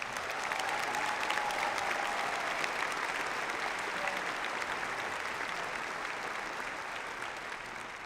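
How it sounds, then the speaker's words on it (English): At a high school commencement, the audience gives a sustained round of applause for faculty and staff. The clapping from a large crowd sounds somewhat distant in the hall and fades gradually over the final seconds. "Please join me in giving these individuals a warm round of applause for their dedication"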